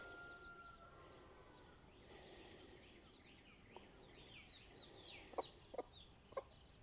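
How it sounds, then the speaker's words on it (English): A hen clucking with her baby chicks outdoors near a shooting range, faint soft clucks and high chick peeps over background ambience, with a few sharper calls toward the end. "Here comes this chicken with all her baby chicks."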